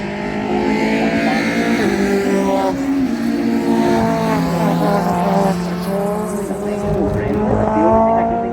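A BMW rally car on a special stage of the McRae Rally Challenge 2025 moves off again, its engine droning and changing pitch, mixed with tyre noise and loud broadband roar, all fairly close and continuous throughout.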